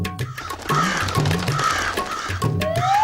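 Several crows caw repeatedly on a rooftop ledge in an animated cartoon, loud and close, with layered overlapping calls over a busy background bed.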